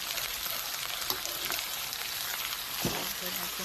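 Two kilos of catfish sizzle in a pan for adobo, a loud steady frying hiss close up, broken by a couple of small pops and a soft thud near the end.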